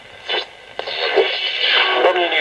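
Shortwave radio reception on a home-made receiver switched to narrow bandwidth, a steady band of hiss and static with faint muffled broadcast audio and brief crackling bursts, fairly loud and continuous throughout.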